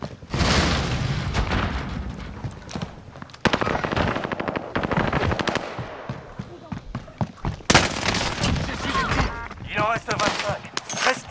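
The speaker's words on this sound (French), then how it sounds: "Je lance une grenade." In Call of Duty, a thrown grenade goes off amid dense bursts of automatic gunfire and booms, loud and close, with a voice speaking over the action.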